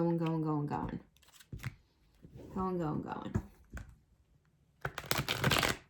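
A voice talks, then pauses while cards are shuffled in a quick riffle of rapid clicks, followed by a louder burst of flapping cards.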